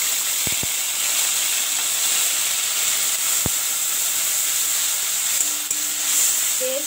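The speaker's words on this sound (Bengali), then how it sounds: "এবার এই তেলের মধ্যে আমি দিয়ে দেব আদা রসুন পেঁয়াজ জিরে লঙ্কা।" Ginger, garlic, onion, cumin and chili sizzle in hot oil as a steady, even hiss, broken only by a few faint clicks, with no talking.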